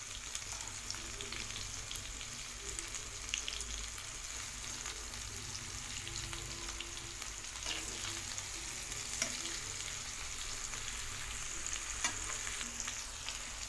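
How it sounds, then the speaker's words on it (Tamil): Chicken tikka pieces fry in a pan over a medium flame, an even, continuous close sizzle with faint stirring scrapes throughout and no voices. "சிக்கன் நல்லா வேகிற மாதிரி நல்லா திருப்பி திருப்பி போட்டு ஃப்ரை பண்ணி எடுத்துக்கலாங்க"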